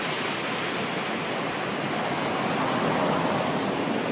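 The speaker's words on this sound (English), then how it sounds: "there's a waterfall coming down the mountain." A waterfall comes down a mountainside beside a road, a loud, continuous rushing roar that stays even throughout, with no voices.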